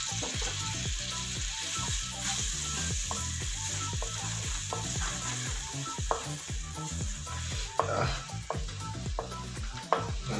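Homemade butter sizzles and fries steadily in a pan as the base for chicken tikka masala gravy, a close, continuous crackle broken by occasional clinks and scrapes of a spoon, with no voices.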